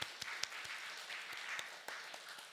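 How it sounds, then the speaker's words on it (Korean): Congregation at a special dawn church prayer service applauding, faint distant clapping with a few sharper individual claps standing out. "박수"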